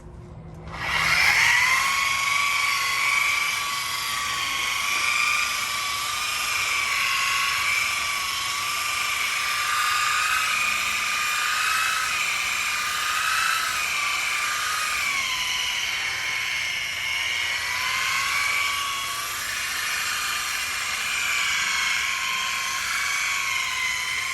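A polishing machine buffs compound into a boat hull during detailing, a steady high whine that starts abruptly and holds with slight wavering pitch for over twenty seconds, loud and alone without talk.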